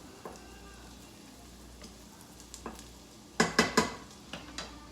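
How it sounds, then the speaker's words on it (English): Vegetables cook quickly in hot oil in a pan for a gnocchi bake, giving a low steady sizzle with a few sharp clatters of stirring. "So we'll cook those really quickly"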